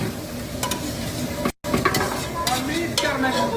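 Onion and paste for kubba fry loudly in a pan, a dense crackling sizzle broken by stirring scrapes and clicks, with a brief dropout midway.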